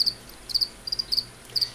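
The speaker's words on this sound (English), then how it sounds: "You can probably hear the crickets." Crickets in a vivarium chirp in short high bursts, repeating at irregular intervals, close and clear over a faint low background hum with no talk.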